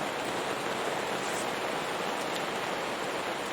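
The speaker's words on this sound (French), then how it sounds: "Une bonne pluie comme ça, pluie fine." Fine, steady rain falls on a garden potato patch, making an even, unbroken hiss from start to finish with no voices over it.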